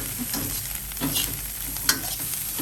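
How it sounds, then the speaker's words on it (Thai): Salted fish fried rice with blanched carrots is stir-fried in a pan. A steady sizzle continues throughout, broken by repeated scraping stirs and one sharp clink. "แล้วก็เนี่ยใส่แครอทที่ ลวกไว้ลงไปค่ะ เขาก็ผัดอีก"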